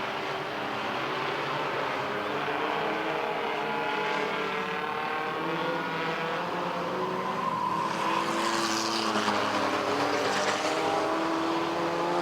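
Midwest modified race cars roar around a speedway oval, several engines blending into one continuous loud drone with rising and falling pitch as they pass, steady throughout and without voices.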